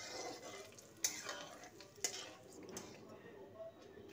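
Ground garam masala sizzles softly in a pan of oil for chicken curry, two sharp utensil clacks breaking through the faint, steady frying hiss at close range.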